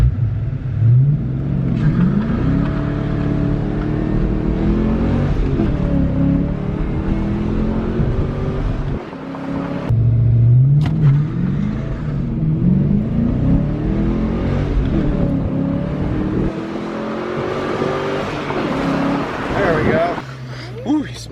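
A 1993 Ford Mustang Cobra Fox Body on old, hard tires launches hard from a standstill, its engine revving and climbing through the gears in repeated rising sweeps, loud and close from inside the cabin, with voices talking over it.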